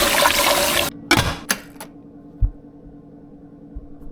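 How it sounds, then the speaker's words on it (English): Rice being washed in water by hand, a swishing, trickling wash for about a second that gives way to a few sparse splashes and taps before quiet, with no one talking. "Use a rice maker, follow instructions, wash your rice."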